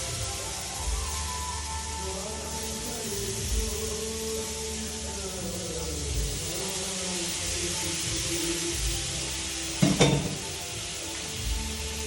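Mushrooms and cream cook in melted butter and olive oil in a pan, a steady bubbling sizzle throughout with one brief clatter near the end.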